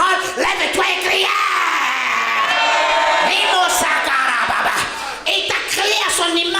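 A church congregation shouts, whoops and cheers loudly and continuously, a dense crowd roar with yells rising throughout, at a French-language worship service.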